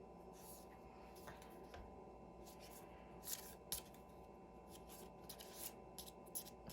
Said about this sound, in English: this smaller deck is a little bit harder for me to shuffle